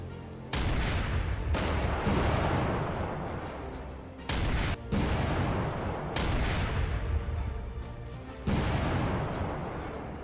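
Artillery and gunfire in the war game Command: Chains of War, loud booming blasts breaking out in several sharp bursts with rumbling decay between them, heavy and close.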